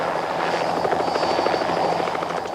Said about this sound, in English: a helicopter is carefully positioned on a platform of plywood boxes